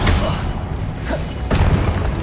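Blasting spell explosions in Hogwarts Legacy: loud booming bursts with heavy low rumble, several hits in quick succession over a dense game soundscape.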